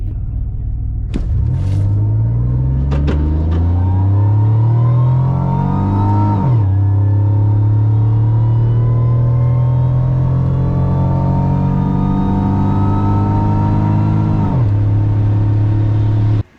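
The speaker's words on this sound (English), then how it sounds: "On this pass, I basically flat foot it without bringing it up on the converter, hoping that I get a little bit more stall speed." A front-wheel-drive Pontiac Grand Prix GTP with a GM 3800 engine and a swapped 4T80E transmission launches at full throttle. The loud engine drone climbs steadily through two upshifts over about fifteen seconds.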